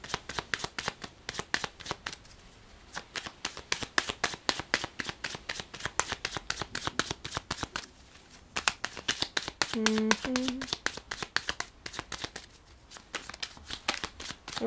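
Tarot cards are shuffled by hand in a quick, continuous riffle of crisp slaps and flutters, close and clear, with a voice speaking briefly partway through.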